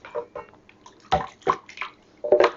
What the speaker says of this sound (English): Add that hot water in here.